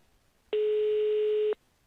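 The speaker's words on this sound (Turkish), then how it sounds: "İnşallah açar telefonuna. Çalıyor ama herhalde bir işi var." A single ringing tone from a phone in a Minecraft game, one steady beep lasting about a second, clean and fairly loud, starting and stopping abruptly with silence on either side.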